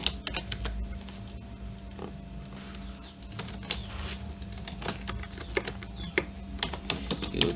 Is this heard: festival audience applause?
no